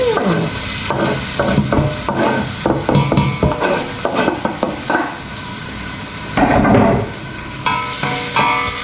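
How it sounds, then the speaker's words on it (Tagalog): Garlic and onion sautéing in hot oil for rice porridge, loud continuous close sizzling broken by repeated spatula scrapes and taps against the pan, no voices present. "Mainit ang ating mantika. Ilagay na natin ang bawang at sibuyas."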